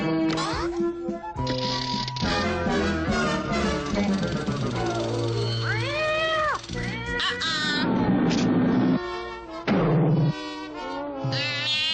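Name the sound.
cat meowing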